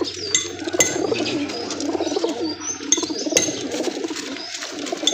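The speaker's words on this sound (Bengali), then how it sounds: "এই দেখেন এই যে একটা ধরা কবুতর" Caught pigeons held in a cluster coo and call in a low, steady murmur, with occasional light clinks and a busy, dense background throughout.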